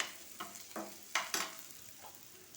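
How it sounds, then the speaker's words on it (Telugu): Spices tempering in hot oil for a brinjal curry give a faint, close sizzle, with a few sharp stirring clicks and crackles spaced across a couple of seconds and no speech. "ఇగో పోపు వేగుతున్నది కదా"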